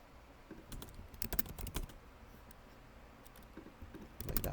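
Typing on a computer keyboard while coding Java in VS Code: quiet, uneven bursts of clicking keys with short pauses between runs, ending in a denser flurry.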